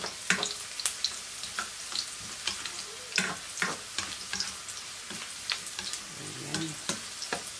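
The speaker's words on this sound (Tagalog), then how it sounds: "Lagay na natin ang onion." Chopped onion goes into a pan of frying garlic, making a soft, quiet sizzle with irregular scrapes, clicks and taps from stirring, close by, with no talking.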